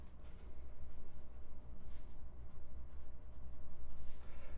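A Kakimori steel dip nib in an aluminum holder scratches across paper with wet ink, a close, steady run of soft rhythmic strokes with brief pauses between them.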